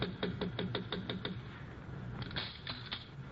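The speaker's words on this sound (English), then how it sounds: "Sounds like somebody's knocking on her door." A quick series of sharp knocks on a door raps out in a steady rhythm, then a few more scattered taps follow, muffled and somewhat distant, in an old radio drama.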